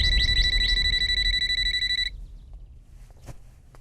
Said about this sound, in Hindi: अरे फोन इतनी देर से बज रहा है, उठाते क्यों नहीं?